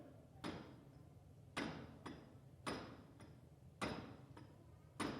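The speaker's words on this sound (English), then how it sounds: "I could put it in the vise, and I can hit on it" A hammer strikes a metal part held in a vise to drive off a bearing, giving five sharp, evenly spaced blows with short ringing decays at moderate distance, and no speech.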